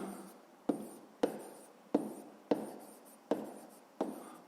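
A pen or pencil writes on paper while working a sixth-grade math exercise, with six distinct tapping strokes and short scratches at a steady pace, close and quiet with no talk.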